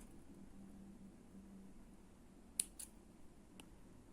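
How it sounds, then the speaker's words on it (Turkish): Scissors snip thread during Turkish needle lace work, a quiet close-up with two or three small sharp clicks over faint room hiss. "Şimdi buradaki ipimi kesiyorum."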